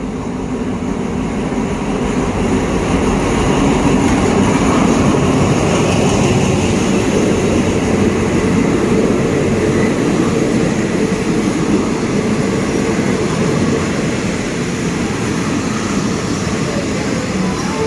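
A train rumbles steadily at Ratchaburi station in Thailand, with a loud, continuous low roar of rolling wagons that holds close and even for the whole stretch.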